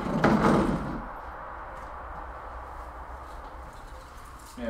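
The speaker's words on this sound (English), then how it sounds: "I'm closing the back door to get a bit of warmth in here." A back door swings shut with a solid thud near the start, leaving a steady hum of distant traffic and faint outdoor ambience behind it.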